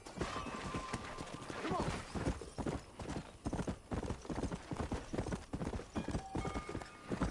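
Steady clip-clop of horse hooves trotting at an even rhythm in the video game Red Dead Redemption, fairly close, with a brief whinny early on and no talking.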